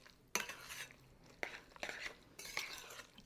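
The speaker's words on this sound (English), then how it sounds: "I'm just going to kind of spoon it around just a little bit." A spoon spreads and scrapes chocolate chip pineapple cookie dough around a bowl, giving a few separate scraping strokes against the sides, close and moderately loud, with no talking.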